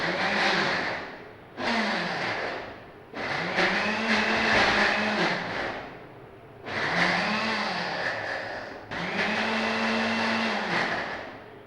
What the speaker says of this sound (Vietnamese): sau đó thì các bạn cho vào trong cái máy xay